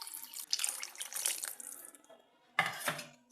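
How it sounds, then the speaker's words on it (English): Water pours into a pot of fish curry (dried fish kulambu with eggplant) in bursts, a splashing flow for about two seconds, a brief lull, then another short pour. "So I'm gonna add some more water."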